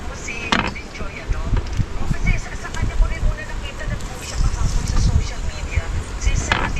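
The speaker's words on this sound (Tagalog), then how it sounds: "Mahangin." Steady wind buffeting an outdoor microphone, a rough continuous rumble with voices speaking intermittently over it.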